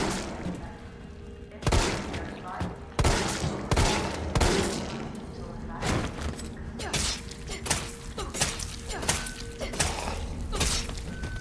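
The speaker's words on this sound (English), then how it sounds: "I'm gonna use some of my handgun ammo here." Repeated gunshots from a handgun in the survival horror game Resident Evil 3, sharp reports spaced irregularly over a busy, noisy game soundtrack with thuds and crashes.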